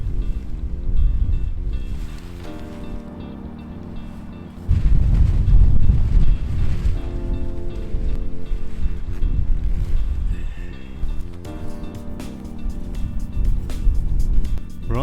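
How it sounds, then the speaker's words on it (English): Outdoor wind on a cold, windy day buffets the microphone in heavy low rumbling gusts, swelling louder midway and carrying on unevenly, with no talking. "Cold, windy day today, so it's been a bit of a challenge."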